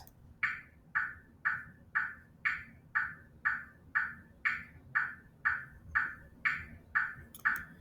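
An Audacity-generated rhythm track plays a steady series of about fifteen identical sharp clicks at an even pulse, each with a short decaying tail, over quiet background hiss.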